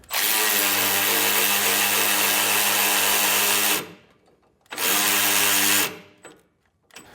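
A power tool fitted with a 9/16 socket tightens two U-bolt nuts while installing Air Lift LoadLifter 5000 Ultimate rear air helper springs on a 2024 Ford. Two loud, close, steady whirring bursts run for several seconds and then about a second, with a short quiet gap between them.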